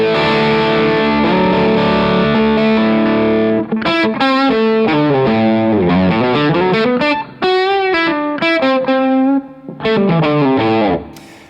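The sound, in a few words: Les Paul guitar through KingTone Mini Fuzz and overdrive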